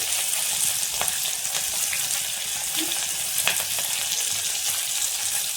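Mustard seeds, cumin, green chilies, curry leaves and a little chana dal frying in hot oil, a steady bright sizzle with occasional pops and crackles, close and continuous.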